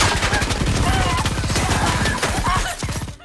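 Fast automatic gunfire in an action film rattles in a tight rhythmic burst for about three seconds, loud and close, ending abruptly.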